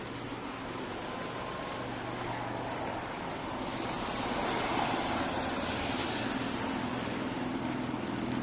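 Morning road traffic passing near a garden, a continuous, fairly distant wash of vehicle noise that swells slightly midway with no clear individual passes.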